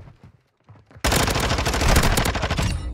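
Automatic gunfire in Call of Duty Modern Warfare 2 multiplayer on the Mercado map, bursting in loud and close after a quiet second of faint sounds and rattling on continuously to the end.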